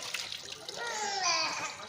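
Running water splashes steadily at close range in a home while a child drinks and washes her face, with broadband rushing and trickling throughout and a brief swell near the middle.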